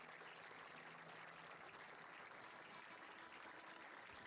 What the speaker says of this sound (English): This clapping is annoying me.